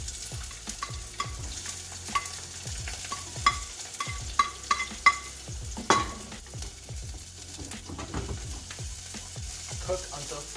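Onion and ginger stir-frying in hot oil in a pan, a steady sizzle under repeated scraping and tapping of a utensil against the pan, with a brief clatter midway; close and continuous, no talk.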